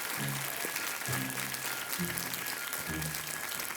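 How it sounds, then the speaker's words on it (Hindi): Studio audience applause welcoming a junior contestant on the Hindi quiz show Kaun Banega Crorepati, a continuous wash of clapping under music and voices, moderately quiet. "बहुत बहुत स्वागत आपका तालियों के साथ।"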